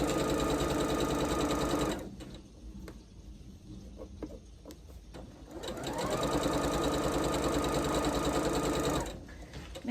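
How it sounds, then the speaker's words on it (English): A sewing machine stitches fabric strips together for a scrappy Americana flag quilt, running in a loud, fast, steady burst, pausing for a few seconds with light handling clicks, then whirring up again for a second long run. "We're going to sew the 2 strips together."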